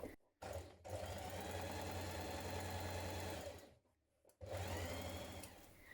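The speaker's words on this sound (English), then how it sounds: "Now stitch round the back yoke neck and the front facing neck pieces also want stitching" A sewing machine stitches around the back yoke neck of a shirt, close and loud, running in a steady whirring burst, stopping briefly, then starting up again.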